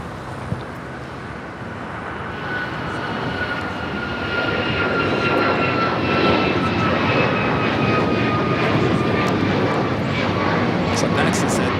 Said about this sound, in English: This is Delta Airlines 898 coming in from Atlanta on the A350-900.